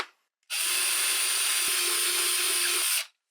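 A power drill widening a hole from 1/8 inch to 1/4 inch whirs steadily for about two and a half seconds, a loud high-pitched buzz starting and stopping abruptly, close by.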